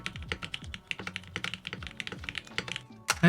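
Fast typing on a Frog Mini keyboard with case foam inside: a dense, steady run of soft, muted keystrokes close up, with a few deeper thocks and a louder clack at the end.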